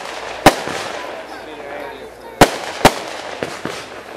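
Fireworks cake shots burst at an outdoor display, giving sharp cracking bangs, one early, two close together later, then smaller pops, with voices talking between them.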